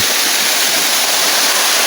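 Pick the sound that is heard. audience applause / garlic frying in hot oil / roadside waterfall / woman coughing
roadside waterfall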